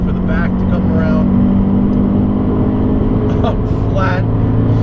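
A Scion FR-S (GT86) fitted with TRD accessories runs flat out on a race track, its engine a loud, steady in-cabin drone with strong low hum, while someone talks over it.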